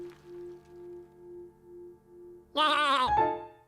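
A cartoon sheep gives one loud, wavering bleat near the end, following a soft, gentle musical hum.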